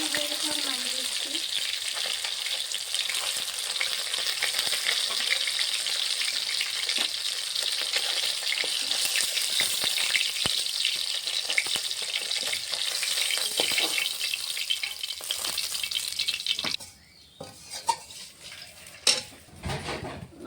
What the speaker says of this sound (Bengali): কড়াইতে দিয়ে দেবো সর্ষের তেল মাছ ভাজার জন্যে